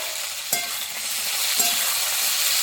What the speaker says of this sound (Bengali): এবার আমি ওই তেলে এঁচড়টা ভেজে নেব